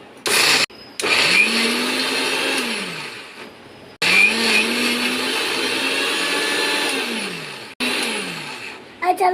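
An electric mixer grinder blends a spice masala with coriander in loud, steady bursts, its motor whine rising and falling, cutting out and restarting several times.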